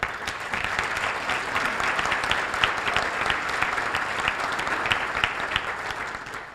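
An audience at a civic State of the Cities event for Los Altos and Los Altos Hills breaks into applause, dense continuous clapping from a roomful of people, steady and fairly loud throughout.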